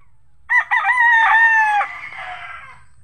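A rooster crows once, loud and close, with a long drawn-out call on a rural farm, a quiet background and no talk.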